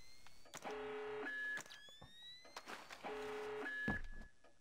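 Electronic alarm tones in the Splinter Cell stealth video game, repeating pitched beeps and sweeping tones in two bursts over a low hum, moderately loud.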